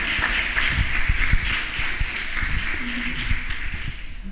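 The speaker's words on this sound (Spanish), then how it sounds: "Denle un aplauso al Señor." Church congregation applauding during a Spanish-language sermon, a steady wash of clapping that holds at an even level throughout, with faint background voices underneath.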